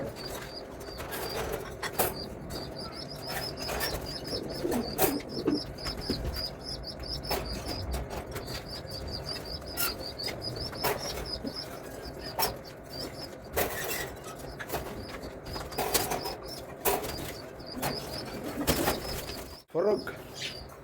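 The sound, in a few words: pigeons cooing in a loft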